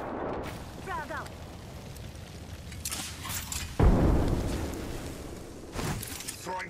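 A frag grenade explodes in Apex Legends with one loud, deep boom partway through that rings out and fades, set among game effects and voice chatter.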